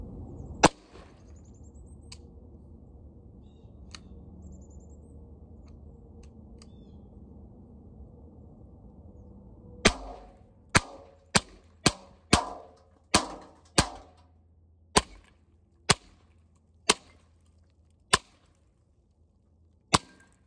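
Ruger 10/22 rifle firing 40-grain rounds at targets outdoors: about a dozen sharp, loud reports, one early and then a rapid irregular string spaced roughly a second apart, each with a short decaying tail.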